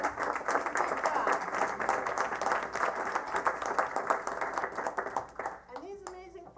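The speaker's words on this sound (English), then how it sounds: "give Sandy a big round of applause" Dense, steady clapping from an audience fills a town board meeting room, loud and sustained, then thins out and fades as a voice begins speaking.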